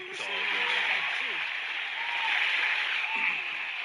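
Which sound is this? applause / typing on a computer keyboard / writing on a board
applause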